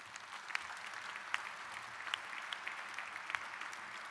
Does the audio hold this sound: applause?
yes